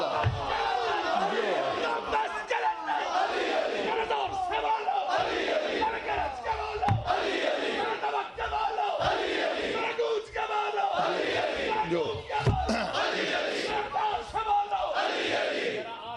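A large crowd at a religious sermon gathering loudly chanting slogans in unison, repeated rhythmic surging shouts filling the space, loud and sustained with brief pauses between chants.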